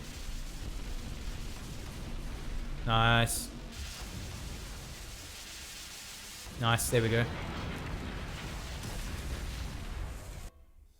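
Minos cannon fire and explosions in the video game Siege of Centauri, two heavy booming bursts about four seconds apart over steady game background, with someone talking over the action.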